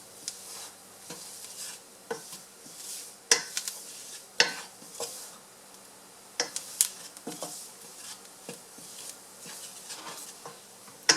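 Flour and shallot mixture sizzling in a hot pan, stirred and scraped with a utensil in irregular clacks over a soft steady sizzle, no talking.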